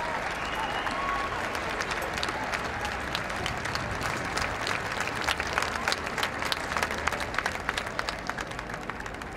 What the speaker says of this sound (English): Huge applause here around the paddock